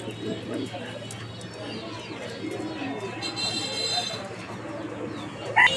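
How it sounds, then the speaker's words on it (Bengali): Fancy pigeons for sale at a bird market coo in low, rolling calls close by, while people chatter and talk in the background. "আমরা এই মুহূর্তে দেখতে পাচ্ছি এখানে 2 পিস কবুতর, শোকিং কবুতরে।"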